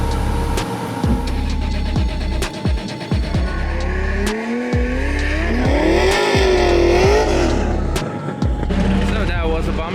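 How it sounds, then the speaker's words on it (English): Race car doing a tire burnout in the burnout box at a Formula Drift round, warming its tires before the first race: a loud, steady engine roar with rising and falling revs and tire squeal, under occasional talk. "In the middle of the burnout box, warming up the tires for the first race."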